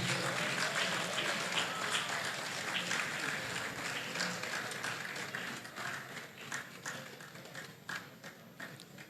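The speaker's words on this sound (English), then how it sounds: "Please, a round of applause for him." Student audience applauding a newly introduced student at a meetup with animation professionals, a steady wash of many hands clapping that fades gradually, with light taps and murmurs in the room.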